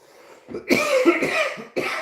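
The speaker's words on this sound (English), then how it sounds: "Still have a cough." A burst of several harsh coughs in quick succession, close and loud, after a faint breath.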